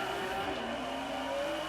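A grippy rear-wheel drive car in Forza Horizon 3 launches at full throttle with traction control on, its engine a loud, continuous high-pitched rev with a faint hint of tire noise.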